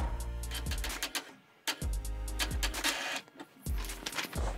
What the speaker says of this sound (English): As you can hear, it's starting to make some noises.